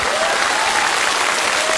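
A studio audience at a television show applauds in a dense, loud, continuous burst of clapping from many hands.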